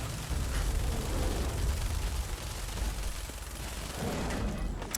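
Gunfire aimed at a Deathclaw in Fallout 4: a steady, dense barrage of shots and explosive rumble with no let-up, loud and close throughout.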